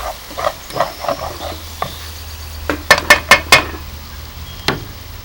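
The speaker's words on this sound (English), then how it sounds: "Just give it a little stir and let all those spices infuse together until the sugar caramelizes." A utensil stirs Massaman curry spices and sugar caramelising in a hot pan, soft scraping strokes over a low sizzle, then a quick run of sharp clinks and knocks against the pan.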